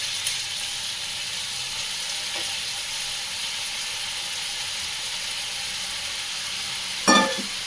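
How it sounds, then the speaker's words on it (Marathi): Potato and eggplant pieces sizzle steadily in a pan, a constant soft frying hiss with a brief louder clatter near the end. "त्याच्याबरोबरच हे बटाटा, वांगी बटाटा टाकते"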